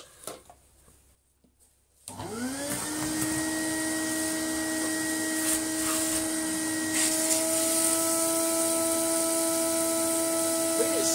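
An Electrolux 504 vacuum cleaner starts up after a few seconds of quiet handling noise, then runs steadily with a loud, close motor whine and hum that holds to the end.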